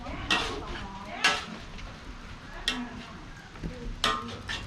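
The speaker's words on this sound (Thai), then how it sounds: "กำลังผัดนะครับ" Mixed vegetables being stir-fried in a pan, with a handful of sharp metallic clanks of a utensil against the pan at irregular intervals over a low background hiss, fairly close.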